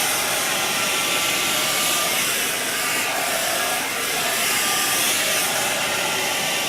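A handheld blow dryer running on its high setting while drying a child's natural hair gives a loud, steady, broadband rush of air that holds without a break and has no voices.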